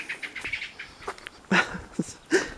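A startled bird calls a few times in misty morning countryside, giving short sharp chirps that grow louder toward the end, nearby and alone without talk.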